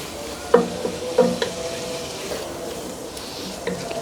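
Fried turnips being stirred into shaljam gosht in a cooking pot, a few distinct scraping knocks of the spoon over a low sizzle, close and fairly quiet.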